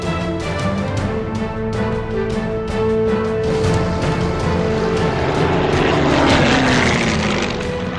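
A World War II Soviet Yak-9 fighter's piston engine and propeller give a loud, steady drone that holds throughout and swells slightly toward the end, with no talk.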